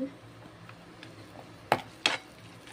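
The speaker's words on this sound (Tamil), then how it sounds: "அப்படியே நல்லா கிண்டி விட்டுட்டு" Rasam ingredients being stirred in a pan, two sharp close scrapes of a spoon against the metal over a faint background hum, with quiet clatter between them.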